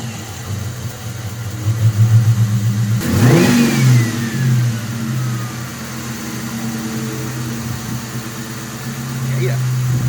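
The engine of a 22-year-old Ford Mustang idles with a steady rumble, then cranks and fires with a sharp rev that settles back into a smooth, close idle, with someone talking over it.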